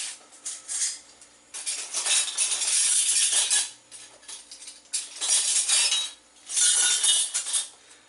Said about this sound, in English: Put your lid on there.